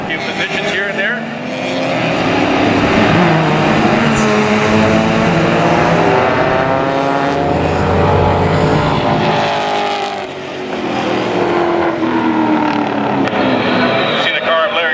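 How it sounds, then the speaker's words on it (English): Race cars, a Miata among them, bunch up and roar through a pair of turns at Mission Raceway in a closed-wheel race. Sustained engine drone with shifting pitch sweeps rises and falls steadily, and a commentator talks over it. "This is a quite traffic jam going through turn 4 and 5 right now as the cars sort themselves out."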